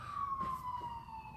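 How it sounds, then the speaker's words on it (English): Ambulance siren wailing through downtown Toronto streets, a single steady tone slowly falling in pitch, distant and faint over low traffic rumble, with no talking. "Ambulances in Toronto."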